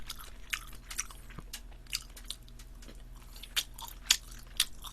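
Crisp, crunchy bites of grilled pork skin chewed close to the mic during a mukbang of Korean-style grilled tripe and pork, repeated irregular crunches with no talking.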